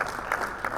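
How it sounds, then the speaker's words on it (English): Brief burst of audience applause thanking the sponsors of a quiz semi-final event, steady clapping that swells slightly twice over less than a second. "we should give a round of applause and thank all our sponsors"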